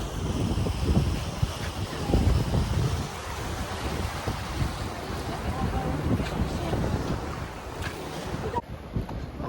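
A boat moves over water near a beach with steady wind buffeting the microphone, low engine and splashing rumble filling the whole stretch.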